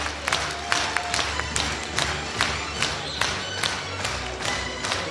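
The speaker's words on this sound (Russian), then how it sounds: "наши громкие аплодисменты" Audience applause at a spiritual music festival concert in Molodechno, a steady crowd clapping with irregular sharp hand claps throughout, fairly close and full, with no talking over it.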